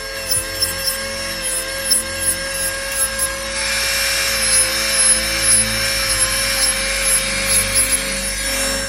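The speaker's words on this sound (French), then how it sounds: "On se déplace constamment dans le sens de rotation de la ponceuse." An electric nail sander filing off gel nail polish gives a steady high whine with a faint grinding rub. It holds close and even throughout, growing slightly louder partway through, with no talking.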